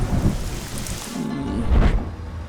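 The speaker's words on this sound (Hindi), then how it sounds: "बारिश पसंद है तो फिर बारिश में भीगो।" Steady rain pours down with a low rumble of thunder swelling near the end, a continuous wash of noise with no voices.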